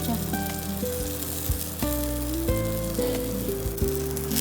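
Ghee sizzling on a nutritious paratha frying in a pan, a steady close crackling sizzle that runs the whole time under light background music, with no talking.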